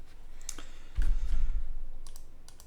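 Computer mouse clicks come close and distinct: one sharp click, then a heavier thump, then a few quick soft clicks, with no talking.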